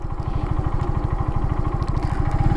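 A Kawasaki W175 motorcycle engine runs at low speed, a loud, close, rapid and even thumping beat with a slight lugging throb, steady for the whole stretch with no talk.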